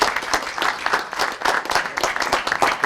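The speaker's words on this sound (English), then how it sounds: "give yourselves a round of applause" Applause for a high school marching band at a proclamation ceremony: a dense, steady wash of many hands clapping close by, holding level for about three seconds with no voices over it.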